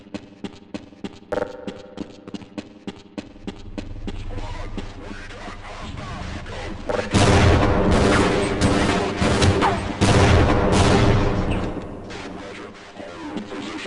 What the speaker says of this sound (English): What is exploding in here? That was like a small explosion.